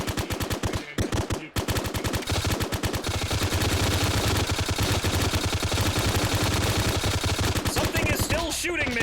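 Sustained automatic gunfire aimed at the player in Arma 3, a long relentless stream of rapid shots after a few opening bursts, loud and close throughout.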